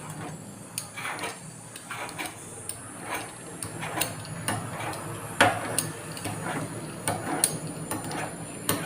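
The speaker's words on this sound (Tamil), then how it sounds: "இப்போ வந்து நம்ம பீஸா கட்டரை வச்சு நம்ம கட் பண்ணிடுவோம்." A pizza cutter rolls through layered parotta dough on a hard surface, making a series of light, sharp ticks and taps at an irregular, quick rhythm, close and fairly quiet.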